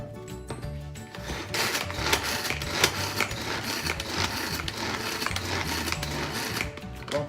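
Vegetables for vegetable accra fritters whir and rattle in a food chopper, a continuous close mechanical buzzing with clattering pulses that runs throughout.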